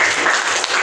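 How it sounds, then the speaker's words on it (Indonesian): Brief burst of audience applause in an Indonesian classroom presentation, dense clapping lasting under a second. "Tepuk tangannya."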